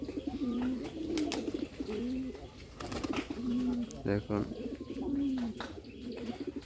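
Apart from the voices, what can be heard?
Bombay pigeons cooing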